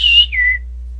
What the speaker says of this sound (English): I do a whistle.